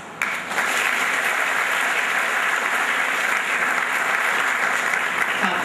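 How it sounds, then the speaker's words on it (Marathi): Sustained applause from a seated audience at a talk in Akluj, starting abruptly and holding steady, loud and dense throughout with no speech over it. "त्या P साठी आपण टाळ्या वाजवूया"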